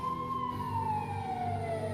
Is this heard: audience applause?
no